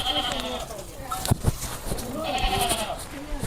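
A goat at a village home bleats twice, wavering calls near the start and again near the end, with people talking and moving about close by.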